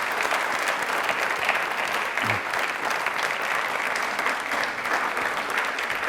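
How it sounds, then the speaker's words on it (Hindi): Dense, sustained applause from a large audience at a televised Rajasthani quiz show, filling the space evenly from start to finish. "इसके लिए दिल से एक बार जोरदार वाली ताली बजा दीजिए प्लीज"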